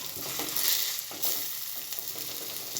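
Coriander powder roasts in hot oil for a squid roast, making a loud, even sizzle with a few quick stirring scrapes, and no voices.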